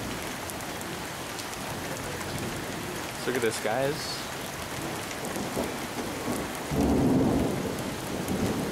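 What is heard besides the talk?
thunderstorm with rain and thunder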